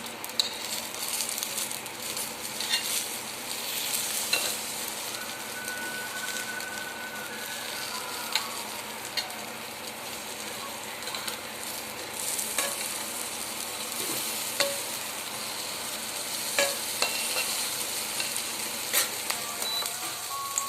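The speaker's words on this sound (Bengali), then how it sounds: "গরম গরম খিদে দিনে বেগুন ভাজা করছি" Eggplant slices fry in a pan with a continuous crackling sizzle, broken by scraping and clinking as a utensil turns them.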